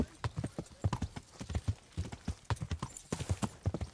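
Horse hooves clop steadily in Kingdom Come: Deliverance, a close, rhythmic gait of repeated thuds that carries on through the whole stretch, with a brief whinny in the middle.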